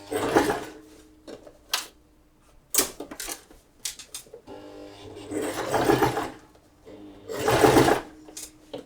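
A sewing machine stitches a shirred summer mini dress in several loud, close bursts of rapid needle clatter. The bursts are separated by short pauses and small handling clicks.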